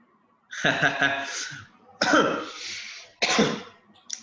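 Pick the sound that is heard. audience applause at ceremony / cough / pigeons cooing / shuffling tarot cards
cough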